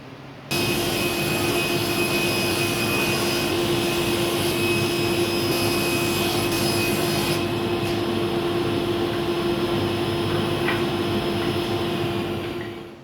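A power saw cuts Formply cabinet panels for a desk, giving a loud, steady, whining drone that holds for about twelve seconds before cutting off. No voices are heard.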